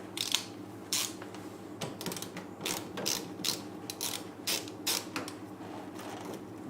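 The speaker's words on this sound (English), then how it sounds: "We're going to disconnect both terminals just to be extra safe." A ratchet wrench loosens car battery terminals before engine top-end work on an L67, giving rapid clicking pawl bursts in uneven strokes with metallic creaks, up close and with no voices.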